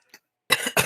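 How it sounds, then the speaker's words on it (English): Two sharp, close coughs come in quick succession after a faint throat sound, part of a coughing fit with no talk. "I've been having a coughing fit every time I try to drink water"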